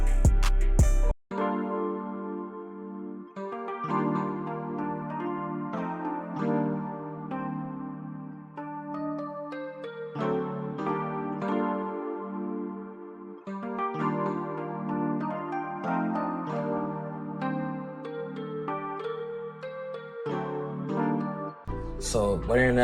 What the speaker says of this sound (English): I want to expand and grab the Rose, the Mark II preset, and I just literally copied the exact same pattern from the piano